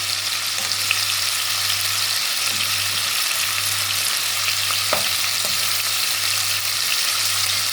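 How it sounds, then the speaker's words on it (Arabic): Kofta frying in butter in a pan, a steady even sizzle with faint scrapes and light clicks of utensils, close and continuous with no talking. "طبعا كده الكفتة بتاعتنا اتحمرت كده على كل جنب"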